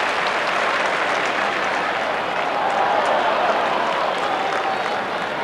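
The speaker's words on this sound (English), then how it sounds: "the crowd reacts again as they watch it on the big colour scoreboard at the MCG" A large football crowd at the MCG in a 1990 Melbourne versus Essendon match roars and applauds steadily after a high mark, a dense, sustained wash of cheering heard at a distance with no commentary over it.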